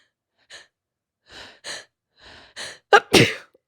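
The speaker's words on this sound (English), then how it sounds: "Hold on, I have to sneeze." A single loud sneeze, preceded by a few quick breaths and a sharp inhale, close to the listener in an otherwise quiet space.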